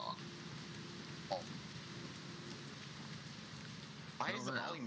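Steady rain hissing continuously at a low level, with a couple of brief voices cutting in near the end.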